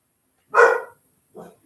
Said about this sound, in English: There's my fur baby barking around.